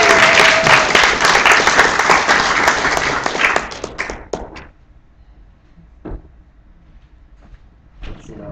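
A library storytelling audience applauds, a dense round of clapping that tapers off after about four seconds into near quiet, with a few scattered thumps afterward.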